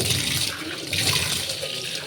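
Water rushes steadily into a dirty kitchen sink, rinsing away baking soda scrub in a continuous close splashing flow.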